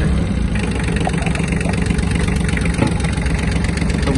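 Kubota B1-17 Japanese mini tractor with its diesel engine idling, a steady loud rumbling chug that stays even throughout with no talking.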